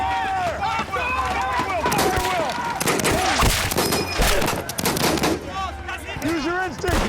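Dense bursts of gunfire and machine-gun fire boom through a war-movie battle scene, loud and near, with shouting voices mixed into the continuous chaotic barrage.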